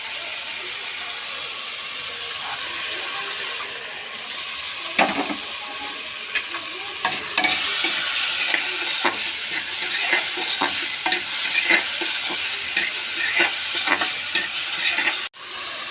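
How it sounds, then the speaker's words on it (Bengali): Boiled cauliflower with green chilli being mashed and stirred in an oiled frying pan for a cauliflower-stuffed snack, giving a steady sizzle broken by repeated scraping, tapping utensil strokes, close and continuous with no talk. "এখানে ম্যাশ করা একটু সিদ্ধ ফুলকপি দিয়ে দিলাম, একটু ম্যাশ করে দিয়ে দিলাম।"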